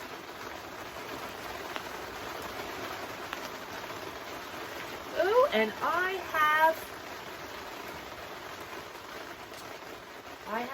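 Steady rain pattering down throughout, with a brief bit of close speech partway through.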